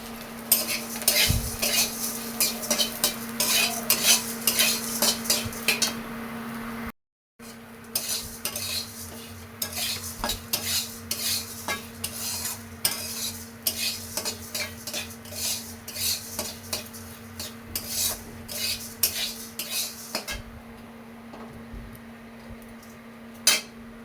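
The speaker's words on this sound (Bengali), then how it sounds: "তেল দিয়ে একটু মাগো চিড়া ভাজা করি" Flattened rice (chira) fries in oil in a pan with a steady sizzle, under constant rhythmic metal scraping and clinking from a spatula stirring it, close and busy, with a brief silent gap partway through.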